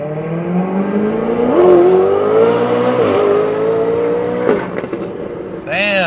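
Ferrari 488 on air suspension with an aftermarket exhaust pulls hard, its loud engine note climbing through several rising sweeps with brief shift dips, close and dominant, fading toward the end as a faint voice cuts in.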